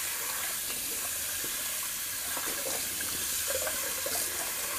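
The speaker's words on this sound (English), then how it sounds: "let me just rinse out that container because I lathered up in the container" A shaving soap container being rinsed out under a running tap after bowl lathering, a steady broadband rush of water with small splashy changes as it is handled, close and continuous with no talking.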